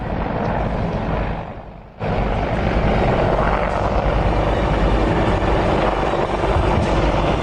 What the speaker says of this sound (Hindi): कमांडोज को आसमान से ड्रॉप करने वाले MI हेलीकॉप्टर ने भी अपनी ताकत दिखाई।